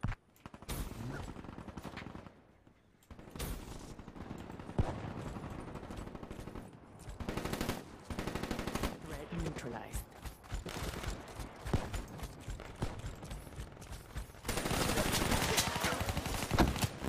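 Gunfire from Black Ops 3 crackles in rapid bursts and single shots across a busy, loud game mix, with brief pauses, layered effects and occasional voices.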